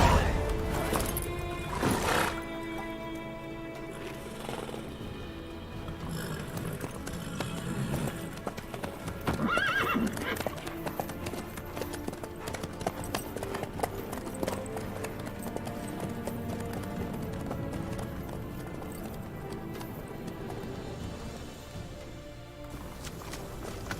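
Horse hooves clip-clopping at a steady walk in The Witcher 3, with occasional whinnies and in-game character dialogue over the hoofbeats.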